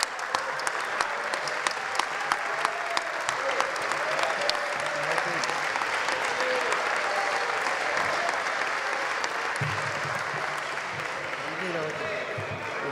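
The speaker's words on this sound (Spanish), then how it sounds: "Ustedes pueden aplaudir," Applause fills the chamber of Argentina's National Congress during a ministerial interpellation. Sustained clapping from many people runs for over twelve seconds, with voices mixed in beneath the steady roar.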